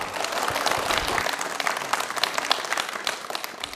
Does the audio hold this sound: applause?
yes